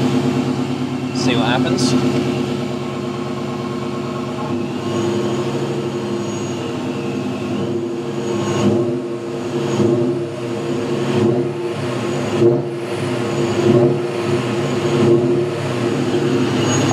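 A supercharged BMW E39 M5 V8 idles steadily with a deep, droning tone, while the throttle is blipped for a few short revs. People talk close by throughout.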